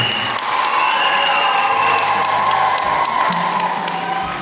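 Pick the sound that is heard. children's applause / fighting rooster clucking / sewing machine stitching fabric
children's applause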